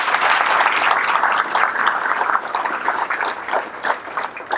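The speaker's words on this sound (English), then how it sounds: "So please, if you will, give Ralph a big round of applause." Audience at a charity breakfast event giving a big round of applause, dense steady clapping from a crowded room that carries on throughout and fades slightly toward the end.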